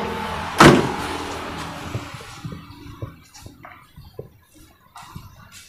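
Door on the right side of a 1994 Suzuki Realvan DRV being opened: one sharp, loud latch clunk near the start, followed by softer scattered clicks and knocks from the door and body, close by with no talk.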